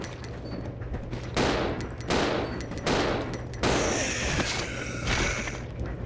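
Repeated video-game gunfire from Resident Evil Zero on the Gamecube, aimed at zombies: four or five loud, sharp shot bursts spaced about a second apart over a steady electronic game hum, with no talking.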